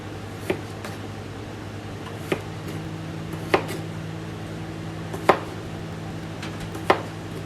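A kitchen knife chops red potatoes on a board, five sparse sharp knocks spaced irregularly over a steady low hum, no talking.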